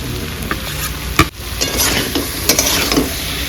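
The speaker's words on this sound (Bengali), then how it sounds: "একটুখানি জল দিয়ে আমি কষিয়ে নিচ্ছি এই চিংড়ি মাছগুলো দিয়েও কষাবো" Shrimp with a little water being stirred and sautéed in a pan: a steady sizzle broken by scraping spatula strokes, with one sharp clatter midway.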